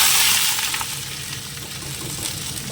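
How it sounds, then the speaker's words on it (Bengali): Potatoes fry in hot oil in a large wok, a loud, steady, close sizzle that spits and crackles throughout with no voices. "এবার আলুটা ভেজে নেবো"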